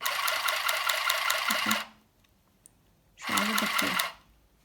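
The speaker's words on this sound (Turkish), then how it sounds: "Şöyle bakın dikmeye başlıyorum." A Singer handheld sewing machine stitches dark fabric, giving a loud rapid mechanical chatter for about two seconds, a pause of near silence, then a second shorter burst of stitching.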